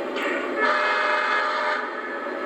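Two Lionel LionChief model train whistles, from a Pere Marquette steam locomotive and a diesel, blow together in a steady, sustained, airy tone lasting a couple of seconds, with no talking.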